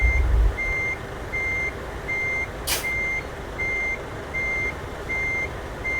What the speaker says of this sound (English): It does have kind of a loud beeper on the back